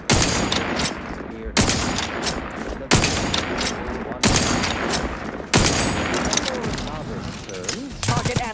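Rapid gunfire bursts from The Outer Worlds 2 video game combat, several loud sharp volleys repeating every second or so, with voices talking over the shooting.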